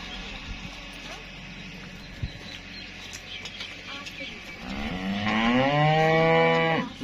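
A Friesian cross cow lets out a long, loud, close moo near the end, preceded by farmyard rustling and a single knock, with someone talking nearby.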